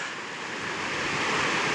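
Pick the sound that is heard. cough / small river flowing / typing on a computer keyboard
small river flowing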